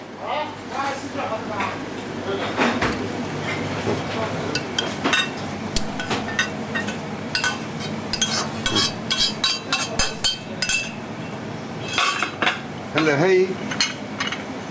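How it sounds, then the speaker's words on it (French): Meat is poured into sauce in a cooking pot, bringing a busy run of metallic clinks and clatters of cookware and utensils, irregular and close, with some voices mixed in. "Alors maintenant, je verse la viande dans la sauce."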